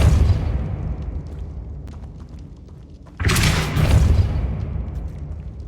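Depulso force-push spell cast in Hogwarts Legacy: a low rumbling ambience followed by a sudden loud booming burst that swells and lingers for a couple of seconds before easing off.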